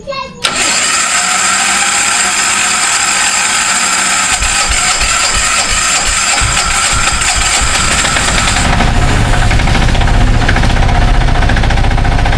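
A vehicle engine left unused for a long time cranks briefly, then catches and runs on as a loud, steady idle with a rough, knocking edge throughout.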